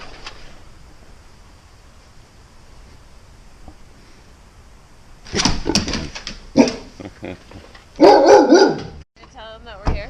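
A gigantic dog at a barn venue in Colorado barks loudly and close in a few sharp bursts after a quiet stretch, with people talking nearby.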